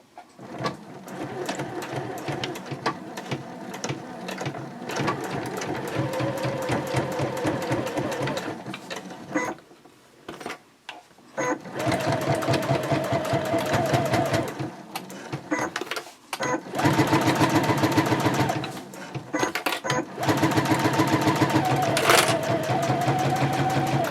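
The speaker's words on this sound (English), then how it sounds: "I'm going to flip it over, and I'm going to sew the seam on the other side." Sewing machine stitching a seam along a clear vinyl pouch, loud steady rapid whirring chatter in long runs separated by short pauses, close by, with no speech.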